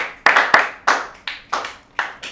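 Sparse hand claps at a debate event, about seven distinct sharp claps in an irregular rhythm, close and fairly loud, rather than a full crowd ovation, with no talk.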